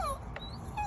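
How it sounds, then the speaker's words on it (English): A dog whimpers indoors with a short, thin whine over a steady hum of background noise, close and brief, with no one speaking. "That's my dog."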